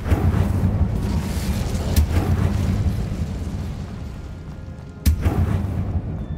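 Incendio fire spell cast in Hogwarts Legacy: a continuous roaring, crackling blast of fire with heavy low rumble, punctuated by two sharp cracking bursts, loud and close throughout.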